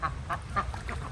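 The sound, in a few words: female duck quacking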